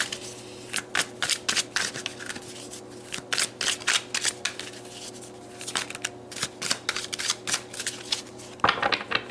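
Oracle cards slightly bigger than tarot cards are shuffled in quick riffling bursts, a rapid run of crisp papery flicks repeating with short pauses, close and fairly quiet with no talk.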